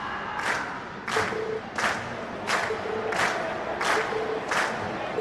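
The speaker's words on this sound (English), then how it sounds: "you've been a wonderful crowd. And we've heard your cheers loud and clear" Crowd at a concert in the video game Trails of Cold Steel, cheering in rhythmic chanted bursts that swell roughly every 0.7 seconds over a steady background roar, loud and close.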